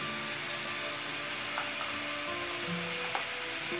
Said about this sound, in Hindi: प्याज को लगभग 2 मिनट के लिए भून लेंगे।